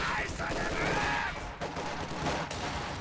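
Machine-gun fire rattles in quick bursts in a strategy video game, mixed with other battle noise at a steady, fairly loud level.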